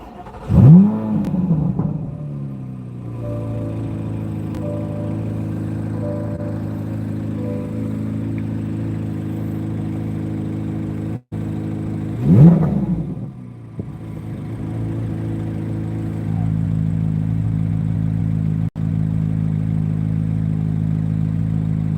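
A Corvette C8 Z06 engine starts with a sharp rising roar, settles into a steady warm idle, then gets a quick blip of revs midway before idling again at a slightly higher, smooth drone.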